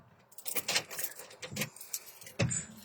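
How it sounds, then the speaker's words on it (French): A door is pulled shut, with jangling keys and latch rattles in a short run of close metallic clicks, ending in a firmer thud near the end. "je vais fermer la porte"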